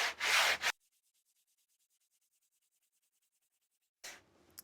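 A radiusing block held in a jig sands a classic Telecaster guitar fretboard. Two short bursts of close, scratchy rubbing are separated by several seconds of near silence.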